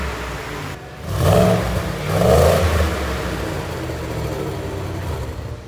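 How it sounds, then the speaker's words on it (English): A Ford F-150 XR4 with a Roush adjustable exhaust set to loud mode swells through two deep revs, then settles into a low, steady idle rumble. "So now let's hear that exhaust."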